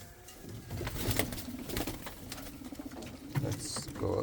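Indian fantail pigeons coo softly in a loft, with low, rolling calls over light patter and shuffling. A faint, high chirp comes near the end.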